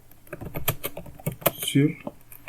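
Mouse clicks on a computer during a software tutorial, a right click followed by a click to paste, heard as sharp, close taps mixed with someone speaking.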